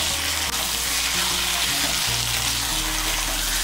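Fried potatoes and pointed gourd are stirred and sautéed with spices in a pan. The sizzle is loud and close, with a steady hiss and scraping stirs running continuously.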